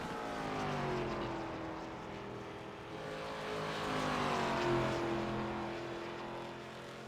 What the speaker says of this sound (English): I think it's going to be time to do some donuts for that 15.